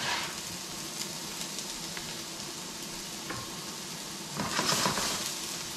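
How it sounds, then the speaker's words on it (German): Ingredients for a vegan chickpea mango curry sizzle in a hot pan with a steady crackling hiss. A few soft clinks and stirring sounds rise near the end, and no one speaks. "Es brutzelt schon wieder."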